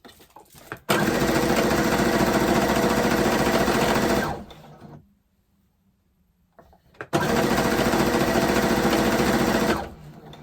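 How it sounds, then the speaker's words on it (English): A sewing machine stitches down one side of a scrappy fabric Christmas tree ornament, running loud and close in two bursts of a few seconds each, separated by a quiet pause. "So we're sewing down this one side."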